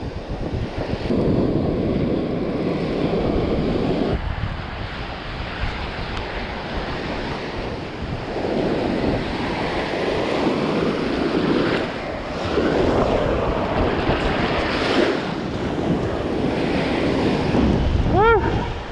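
Ocean waves rolling onto a beach, a loud, continuous wash of surf that swells and recedes in broad surges, heavily buffeted by wind noise on the microphone, with no clear talking.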